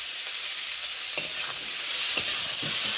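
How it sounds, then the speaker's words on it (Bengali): Onion, green chilli and chopped tomato fry in hot oil in a kadai for aloo bharta, giving a dense, continuous sizzle up close, punctuated by a couple of sharp spatula taps. "কড়ার তেলটা বেশ গরম হয়ে গেছে, পেঁয়াজ দিয়ে দিলাম, তারই সাথে কাঁচা লঙ্কা দিয়ে দিলাম, আর তারই সাথে টমেটো কুচি দিয়ে দিলাম।"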